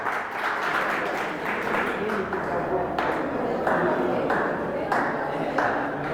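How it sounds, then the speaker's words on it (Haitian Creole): Audience applause for an election adviser at an association gathering, a steady wash of many hands clapping with recurring sharp pings, sustained throughout. "Je vous demande de l'applaudir"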